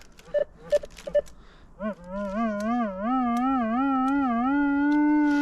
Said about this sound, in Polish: Bardzo taki słaby, niewyraźny sygnał.